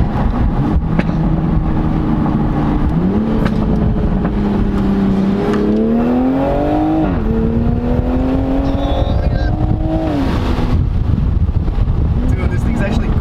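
A new Toyota Supra downshifts and accelerates, its engine pitch stepping up through several rising sweeps, steady and fairly loud with wind rush, while people talk and exclaim throughout.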